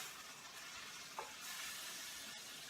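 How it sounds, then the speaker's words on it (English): Fresh garlic sautéing in melted butter, a steady soft sizzle with light stirring scrapes throughout, no voices. "We're going to go ahead and just saute that up for a little bit. Let the garlic toast."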